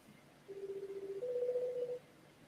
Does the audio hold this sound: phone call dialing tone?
yes